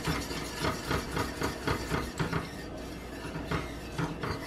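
A whisk beats rapidly against a metal pot as shredded cheese is worked into homemade chicken Alfredo sauce, a dense, rhythmic clatter of repeated strikes that carries on steadily at moderate volume.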